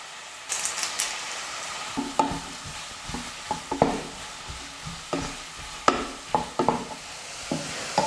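Chopped onions with curry leaves and spices fry in hot oil for a pepper chicken dish, a steady sizzle broken by repeated close scraping clatters of a spoon stirring the pan, with no talking.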